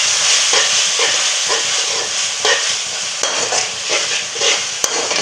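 A spoon stirs masala bhindi, okra with salt and spices, in a frying pan, scraping in steady repeated strokes over a continuous close sizzle and hiss; nobody speaks.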